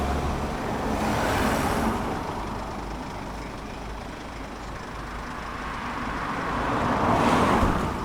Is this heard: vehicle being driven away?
yes